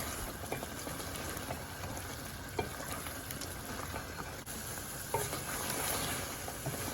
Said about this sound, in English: Now that I'm putting the heat high, I'm going to fry the meat until all the juices have reduced down and it goes quite dry.